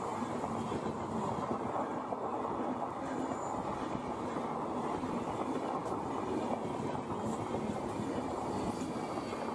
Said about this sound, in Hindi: जलपाईगुड़ी से हावड़ा की शताब्दी।